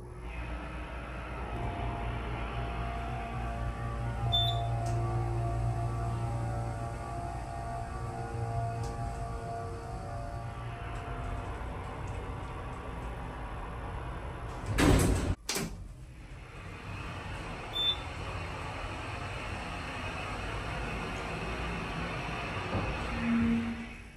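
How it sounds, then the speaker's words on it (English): A 1991 Montgomery elevator motor in a department store at a shopping mall hums low and steady at moderate distance. A sharp clunk partway through may be a door or brake, and the hum settles afterward. "I'm gonna let you listen to the motor"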